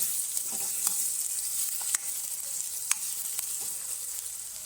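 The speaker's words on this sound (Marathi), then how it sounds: "आता आपण टॉमॅटो टाकून घेऊ टोमॅटो पण छान असं तेलावर शिजवून घेऊ" Onion and tomatoes fry in hot oil for an Agri Koli–style squid masala, giving a steady, close sizzle with a few sharp stirring clicks and no talking.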